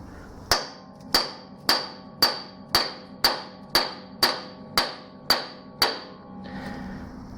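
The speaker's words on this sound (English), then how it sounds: "give it a few shock taps and it just falls out" Eleven evenly spaced sharp metallic hammer taps on a Nissan GQ Patrol power steering box to loosen it, each ringing briefly before the next, close and loud, then a faint rustle at the end.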